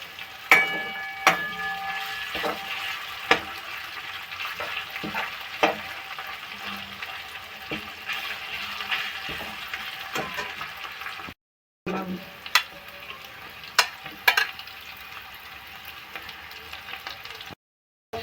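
Crushed garlic and grated ginger sizzle steadily in hot oil for chicken rice, with occasional sharp stirring clicks and a brief pause before the frying resumes.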